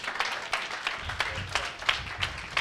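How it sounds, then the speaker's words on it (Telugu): A church congregation claps loudly together in a brisk, steady rhythm of sharp hand claps, filling the room for a few seconds with no talk. "గట్టిగా చప్పట్లు కొట్టండి."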